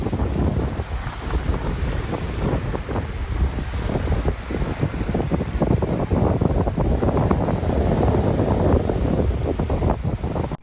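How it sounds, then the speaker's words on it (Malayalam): Calm, gentle sea waves wash onto Umluj beach on Saudi Arabia's Red Sea coast, a continuous soft surf heavily buffeted by loud wind rumbling across the microphone, with no talking. "ഇവിടെയാണെങ്കിൽ ഭയങ്കര ശാന്തമായിട്ടാണ് ഈ തിരമാലകളൊക്കെ വരുന്നത്."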